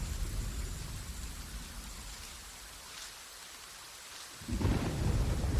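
Heavy rain pours steadily and thunder rumbles loud, fading briefly before a deep crash of thunder returns at full force.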